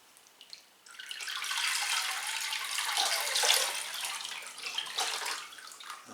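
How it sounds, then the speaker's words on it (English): Water pours steadily from a can or tap onto a potted cattleya orchid, a soft continuous splashing trickle that rises after a brief quiet start and runs on alone with no talk. "So we'll just give this one a watering."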